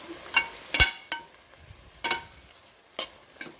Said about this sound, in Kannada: ಟೊಮೊಟೊನ ಕ್ಲೀನಾಗಿ ಫ್ರೈ ಮಾಡಬೇಕು